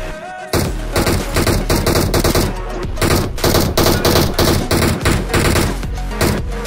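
Loud, sustained bursts of automatic gunfire in a battle royale video game, with rapid shots coming in dense repeated volleys close up.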